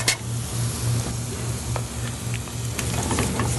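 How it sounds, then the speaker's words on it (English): Homemade spaetzle being stirred in a pot gives a steady, close sizzling bubble with a faint rhythmic scraping underneath, alone without talk. "I like to give it a little bit of a stir so they don't stick together"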